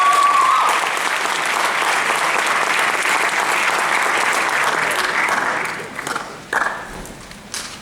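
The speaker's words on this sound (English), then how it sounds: "I would ask that you all give a warm round of applause to Mr." Audience applause breaks out at a college speech night to welcome a speaker, loud sustained clapping from a crowd lasting several seconds before thinning out and fading to scattered claps.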